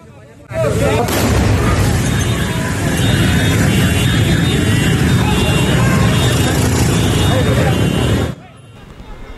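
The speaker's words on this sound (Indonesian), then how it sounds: "Beginilah suara ledakan saat petugas detasemen khusus Densus 88 melakukan penggeledahan" A loud, sustained roaring explosion during a police counterterrorism raid in Bekasi, Indonesia, starts abruptly and rumbles steadily for several seconds before cutting off, heavy and close.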